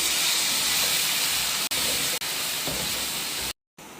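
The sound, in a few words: chopped onions frying in a pan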